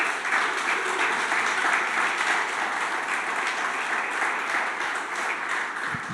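A church congregation applauds steadily and loudly during a Sunday morning service, a dense continuous wash of clapping that holds for several seconds without talk.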